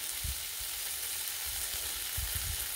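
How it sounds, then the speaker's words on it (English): Tri tip steak sears on a hot griddle, giving a constant loud sizzle with soft popping and a few low thumps from handling, close by and without speech. "Getting a sear on the edges."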